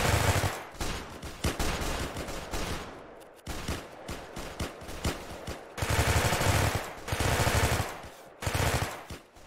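Rapid bursts of gunfire from a medieval-style combat game, Mount & Blade: The Reckoning, firing in repeated loud volleys with short gaps between them, with no talking over it.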